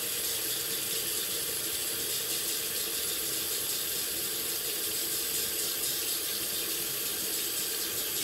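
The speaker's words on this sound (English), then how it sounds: "Then I'll rinse the blade" Tap water runs steadily as a razor blade is rinsed, a continuous hissing splash with no pauses or voices.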